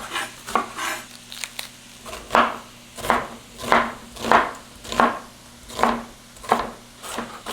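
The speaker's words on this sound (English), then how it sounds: "I'm gonna go ahead and chop that up real quick. I'm gonna use my chef's knife." A Cutco chef's knife chops onion on a board in a steady rhythm of about a dozen close, crisp knocks, evenly spaced and heard alone.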